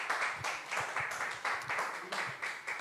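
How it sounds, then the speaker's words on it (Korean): An audience claps steadily to welcome a lecturer at a lecture on peace and unification, a continuous and fairly faint round of applause heard from a distance. "큰 박수 부탁드리겠습니다"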